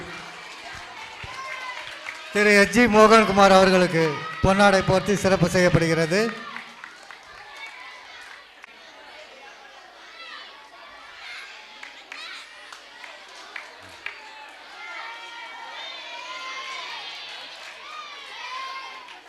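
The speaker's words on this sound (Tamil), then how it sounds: "ஒரு பலத்த கைத்தட்டல் தருமாறு அன்போடு கேட்டுக்கொள்கின்றேன்" Audience applause at a school annual day in Vellore, a loud burst of clapping and crowd noise lasting several seconds after an announcement, then fading into scattered chatter and background murmur while a voice continues speaking.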